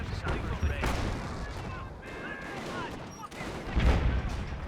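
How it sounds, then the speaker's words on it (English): A 25-pounder artillery gun firing in the video game Company of Heroes, booming blasts with crackling battlefield noise and other gunfire around them, mixed under a commentator's talk. "25-pounder firing away."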